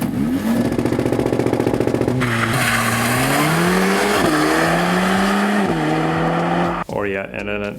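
Mercedes-Benz CLA45 AMG performing a launch-control race start, engine held at high revs then surging through rising gear pulls with shifts, loud and close, ending abruptly.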